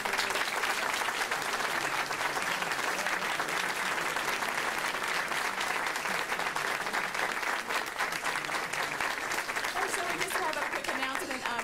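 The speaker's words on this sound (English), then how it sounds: "I would like to give our panel one more round of applause" An audience at a Catholic queer-perspectives panel gives the panelists a final round of applause: sustained, fairly even clapping from many people that holds steady for the whole stretch, moderately loud and slightly distant.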